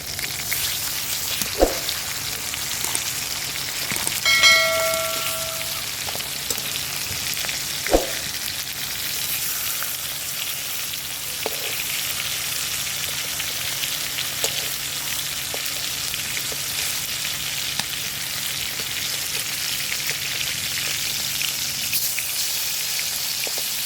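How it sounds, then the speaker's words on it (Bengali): Bhola fish frying in a mustard and poppy seed paste, a steady close sizzle with faint crackle and a few utensil clinks, no talk. "মাছটা হালকা ভাজা হয়ে গেছে"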